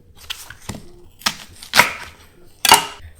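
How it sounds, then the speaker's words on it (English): A knife cuts a large onion into chunks on a board, several sharp separate chops with short irregular gaps, close and clear, no talk. "We'll cut the onion into large chunks."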